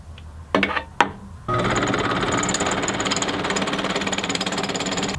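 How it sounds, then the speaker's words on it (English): A couple of short mechanical bursts, then a power drill grinding steadily into a hole in hardened steel on a machete, loud and close with a buzzing, rattling tone. "I'm gonna drill that out so that it matches the other 3 holes."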